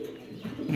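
Low, throaty cooing from a male Andalusian Mundian pigeon, short and close, rising slightly toward the end against a quiet background.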